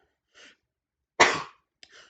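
A single loud, sharp sneeze up close, with a short breathy inhale before it and a quick breath and small exhale after.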